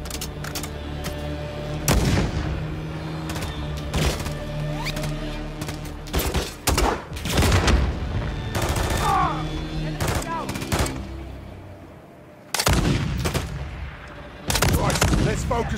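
Loud, close gunfire in Call of Duty Modern Warfare 3 during the Frozen Tundra mission, with many sharp shots and bursts in irregular clusters. A brief lull separates the volleys, and a voice shouts now and then among the shots.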